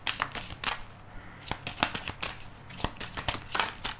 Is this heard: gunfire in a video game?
no